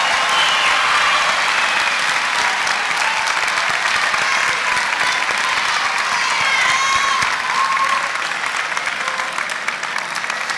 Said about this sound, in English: give the candidates for associate degrees and applied science and associate a round of applause